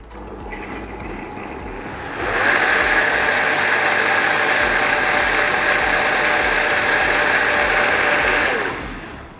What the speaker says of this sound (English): we will grind it